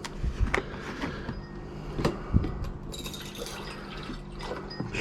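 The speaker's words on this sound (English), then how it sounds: "now put some tap water in there." Water trickles and splashes softly into a container, with a few quiet clinks and knocks along the way.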